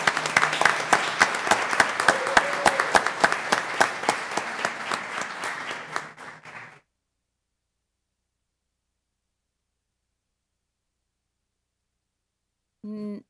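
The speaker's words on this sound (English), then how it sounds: "A big round of applause for our high schools" An audience at a school board meeting claps with distinct, closely spaced hand claps that gradually thin and stop, leaving a long silence before a short burst of sound at the very end.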